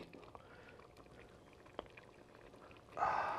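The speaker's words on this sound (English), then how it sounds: "Let me pour it right into the bowl." Soup poured from the pot into a serving bowl, a short burst of liquid splashing that starts near the end, louder than the quiet kitchen background before it.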